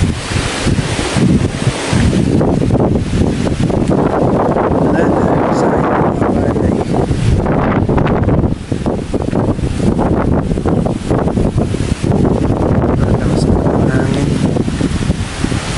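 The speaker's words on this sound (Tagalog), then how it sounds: "Papansin nyo, sobrang lakas po ng hangin." Roaring, relentless typhoon wind buffeting the microphone over rice fields in Roxas, Isabela, loud and continuous with gusty surges and no letup.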